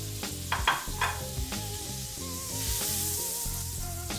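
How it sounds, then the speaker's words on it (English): Two tablespoons of butter melt and sizzle in a pan for French toast. A soft, even hiss sits under faint pan clicks and a low background hum, with a few brief sharper crackles early on. "Got 2 tablespoons of butter going."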